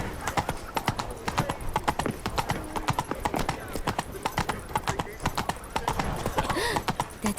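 Horse hooves clip-clop in a steady trotting rhythm along a street in the video game The Witcher 3, with a brief whinny and game voices chattering over the hoofbeats.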